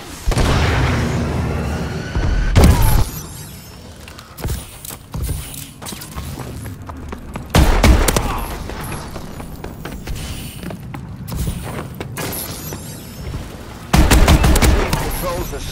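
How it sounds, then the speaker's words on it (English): Gunfire and missile strike explosions in Call of Duty: Advanced Warfare on the Solar map: loud bursts of shots and several heavy booms near 2.5, 7.5 and 14 seconds, with clattering battle noise continuing between them. "Friendly missile strikes inbound."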